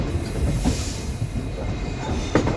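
Mangaluru–Bengaluru express train rolling along its tracks at restricted speed on an uphill climb, a steady loud rumble of wheels on rails with occasional clicks and a faint squeal, no talk.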